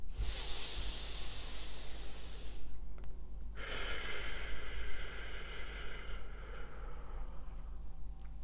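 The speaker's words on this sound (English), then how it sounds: "That's how we want to be breathing in as much of the time as possible." A person demonstrates slow diaphragmatic breathing in, a long airy hiss of inhalation close to the mic, followed by a softer breathy exhale against steady low background hum.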